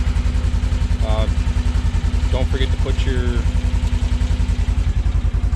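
A 2022 Polaris RZR Trail 900 Premium engine idles steadily close by after an oil change, with an even low-pitched chug throughout while someone talks over it.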